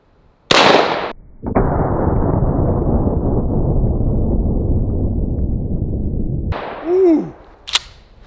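A 12 gauge shotgun fires a rubber buckshot less-lethal round: one loud, close blast, followed by a long rushing decay and later clatter, no talking.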